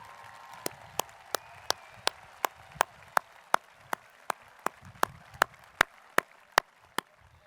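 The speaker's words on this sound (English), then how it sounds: "Please give them a round of applause, please." Clapping for teachers at an eighth-grade promotion ceremony comes as sharp, evenly spaced claps in a slow, steady rhythm through a quiet hall.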